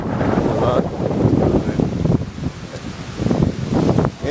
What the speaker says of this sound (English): Lot of wind.